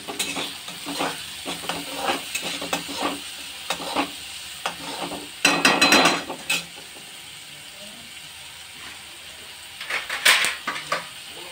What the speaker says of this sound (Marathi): मटारसुद्धा आपण हे चांगलं त्याच्यात रोस्ट करून घेणार आहे